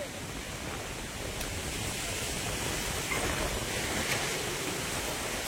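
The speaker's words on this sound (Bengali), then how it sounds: "খালি হাওয়ার আওয়াজ শুনতে হবে এখন।" Strong wind from a Kalbaishakhi storm roars as a steady, broad rushing noise, loud and continuous throughout with no talking.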